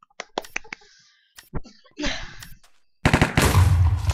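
Minecraft played as a CS:GO-style shooter: scattered clicks and short shots lead into a dense, loud burst of rapid automatic gunfire near the end, with voices heard among the game sounds.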